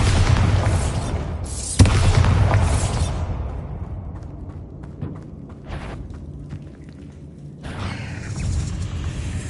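The Bombarda explosion spell in the wizarding game Hogwarts Legacy, a loud deep boom with rumbling debris that decays over several seconds before a second burst of roaring noise near the end.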